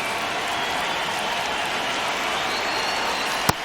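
Stadium crowd in the baseball video game MLB The Show 26 during a tense ninth inning, a steady roar of cheering and applause throughout with a brief sharp clap-like crack near the end.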